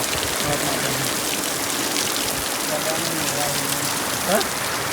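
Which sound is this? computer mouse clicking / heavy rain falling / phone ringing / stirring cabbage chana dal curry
heavy rain falling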